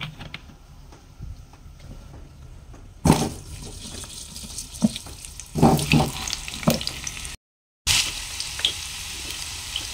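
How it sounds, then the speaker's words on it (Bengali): Potatoes fry in hot oil in a wok, giving a steady sizzle broken by louder bursts and crackles as pieces are added or moved, with a brief gap of silence near the end. "আলুগুলো ভেজে নেব।"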